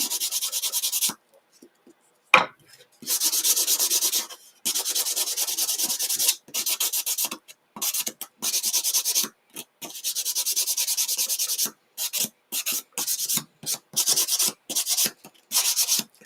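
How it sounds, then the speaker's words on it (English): Small wooden pieces get their edges sanded by hand in quick, uneven rubbing strokes, close and fairly soft, broken by short pauses between passes. "give those a bit of a edge sanding"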